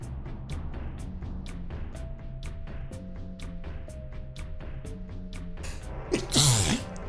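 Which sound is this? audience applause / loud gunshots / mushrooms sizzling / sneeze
sneeze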